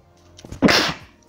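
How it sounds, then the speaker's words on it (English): A single loud, forceful human sneeze bursts out after a brief quiet in-breath, sharp and close, then trails off quickly. "That was a powerful sneeze."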